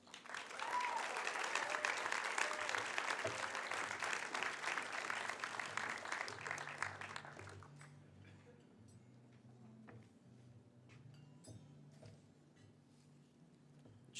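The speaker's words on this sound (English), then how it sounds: "Please, a big round of applause for GERF board member Howard Grill." Audience applause fills a gala ball for a gastrointestinal research foundation, steady and dense for about seven seconds before fading into quiet room tone with a faint low hum.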